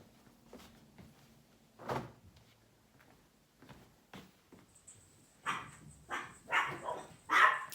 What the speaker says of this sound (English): The second round of dog barking was because my husband came home